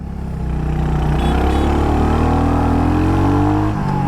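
A Yamaha XSR 155 or Royal Enfield Hunter 350 motorcycle engine rises in pitch as it pulls away in first gear, loud and close with a steady climbing drone and no speech.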